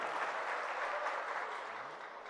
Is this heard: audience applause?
yes